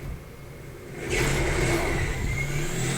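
A motorcycle engine in the video game Death Stranding idles low, then revs up sharply and holds a steady, loud whine for a couple of seconds, heard alone without talk.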